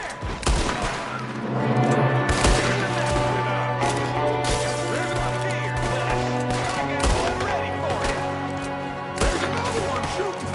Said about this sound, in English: There's another one shooting